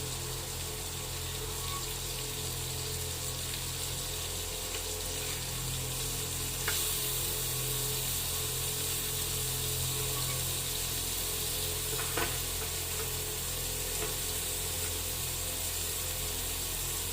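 Fish fries in a pan with a constant, dense sizzle that holds evenly throughout, broken by a couple of faint utensil ticks.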